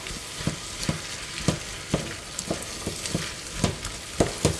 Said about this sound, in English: And I'm just going to stir that round now.